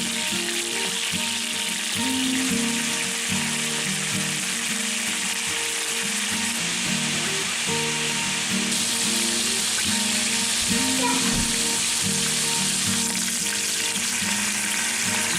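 Small chopped chicken pieces fry in a pan with a dense, continuous sizzle and crackle, plus occasional clinks and scrapes of stirring, close and steady throughout with no talk.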